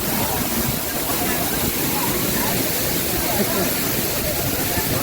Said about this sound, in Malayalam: ഭയങ്കര ഒഴുക്കാണ് ഇവിടെ.